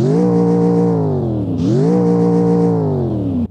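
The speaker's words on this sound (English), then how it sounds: "Realistic gearbox and rev it." A racing school bus engine in BeamNG.drive with a realistic gearbox and no mufflers revs loudly and steadily, climbing in pitch, dropping briefly at a gear change, then climbing again, close and continuous with no talking.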